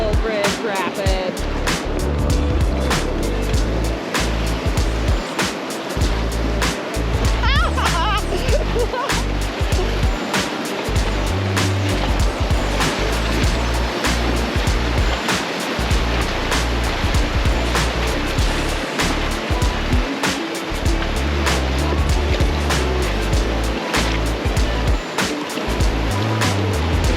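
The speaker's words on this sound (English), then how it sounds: "we're coming up on Skull Bridge Rapid." Raft running Skull Bridge Rapid on the Rio Chama in New Mexico at high water, with loud continuous roaring whitewater and splashing close by throughout, with voices now and then under the rush.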